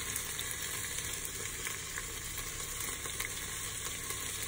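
Onions frying in a hot pan during home cooking, a steady broadband sizzle holding constant and loud throughout with no talk over it.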